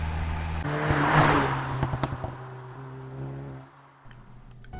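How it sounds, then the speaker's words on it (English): A 2021 Mercedes A-Class 4MATIC with a 188-horsepower engine pulls away under acceleration, its steady engine drone swelling and then easing off, heard from inside the car with a few faint clicks and no talking. "You just step on the gas and the car just takes off, doesn't matter how fast you're going."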